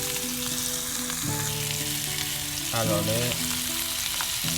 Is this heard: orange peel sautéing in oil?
yes